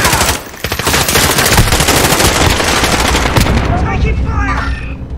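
Sustained machine gun fire in the Call of Duty: Warzone video game, loud and dense rapid bursts filling the whole stretch, with a voice briefly shouting underneath near the end.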